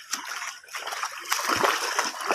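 A boy wades and splashes through floodwater after heavy rain, producing several close, uneven sloshes and splatters in quick succession over a faint watery background.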